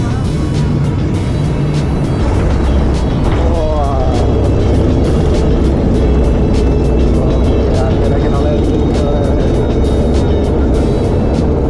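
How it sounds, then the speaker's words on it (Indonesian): Steady, loud broadband roar of an airliner landing at Kupang, heard from inside the cabin. The engine and airflow rumble holds throughout, with a passing swell near the middle and faint voices underneath. "kita landing guys"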